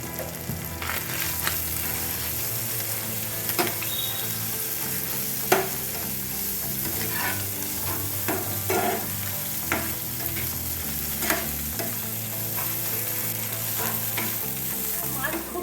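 Cumin powder, turmeric and red chili powder sizzle and fry in a pan, with steady crackling and repeated stirring scrapes close by, alone without talk.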